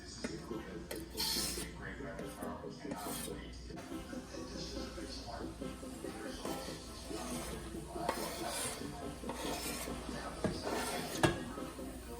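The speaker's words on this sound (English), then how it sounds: "I'm about to saute my onions and celery, and of course, again, vegan butter" Onions and celery sizzle in vegan butter while a spoon stirs and scrapes the pan. The soft, steady frying goes on throughout, with someone talking over it.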